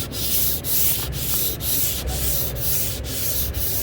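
Block sanding on the body of a 1978 Chevy Malibu street race drag car, with close, steady rasping strokes in an even back-and-forth rhythm, about eight passes with brief pauses between them.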